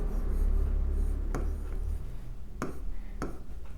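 Chalk or marker strokes on a board during a chemistry lecture on nucleophilic substitution of aryl halides: a few short, scratchy bursts spaced irregularly over a steady low room hum, with no talking.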